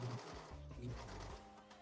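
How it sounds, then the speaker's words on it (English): A serger sewing machine stitches slipper fabric and bedding in a quick, steady whirring burst, soft and close. "I'm just enclosing in this bedding with my serger."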